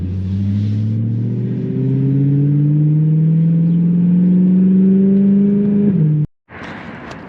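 A BMW E92 M3 drifts with its engine held at a loud, steady rev, the tone climbing slowly for about six seconds before cutting off abruptly. After a brief silence a rougher burst of engine noise follows.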